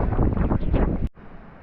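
Strong wind gusting near Charlotte Lake roars across the microphone in a loud, steady buffet, then drops suddenly to a softer rushing blow.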